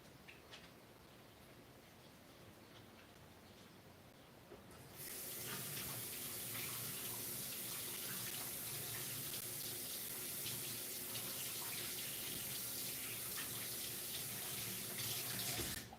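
A kitchen tap is turned on about five seconds in, and a steady stream of water runs into the sink while someone washes their hands, close by with no talking.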